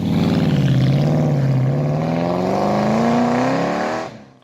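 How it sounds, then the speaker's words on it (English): Australian Ford Cleveland V8 muscle car engine revving hard and steadily, a loud, continuous metallic roar whose pitch dips then climbs over about four seconds before cutting off abruptly, with no voices. "Its mechanical symphony was distinct from the Windsor's deeper rumble, more metallic, aggressive, and high-pitched"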